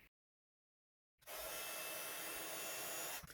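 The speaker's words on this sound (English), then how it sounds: "I'm going to heat emboss this happy birthday in white embossing powder" Heat gun melting white embossing powder on a birthday sentiment, switching on after a second of silence into a loud, steady blowing roar that holds for about two seconds before cutting off.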